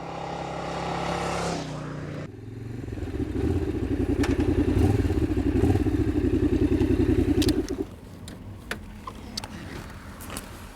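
A Sachs 800 Roadster motorcycle rides along the road, its engine giving a steady, loud, throbbing note for several seconds before it fades and quietens, with a few faint knocks afterward.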